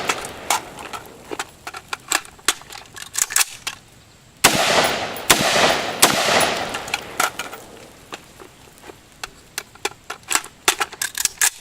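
SIG M400 AR15 rifle firing at an outdoor range, with a quick burst of several close, loud shots in the middle, surrounded by sharp distant reports and clicks from nearby shooting.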